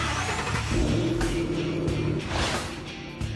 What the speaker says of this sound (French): Et dans le bruit du V8 de 650 chevaux qui se déchaîne.